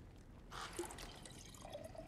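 Liquid is poured in the video game God of War Ragnarök, a soft trickling splash with small drips and a rising fill, quiet and close over low background ambience.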